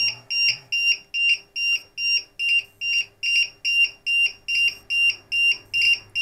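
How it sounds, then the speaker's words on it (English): During the recovery of an overdischarged LiPo battery, an electronic beeper sounds a steady series of about a dozen sharp, high double-toned beeps at an even rhythm, close and fairly loud. "let me just turn off the beeper"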